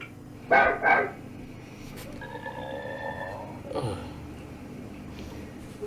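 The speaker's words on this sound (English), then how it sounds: "The barking here is quite extraordinary, actually." A dog gives two loud barks close together, followed by quieter whining or whistle-like tones and one more fainter yelp, with no speech.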